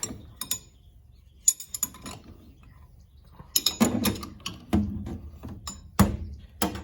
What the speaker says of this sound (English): using a wrench I'm going to start removing the cap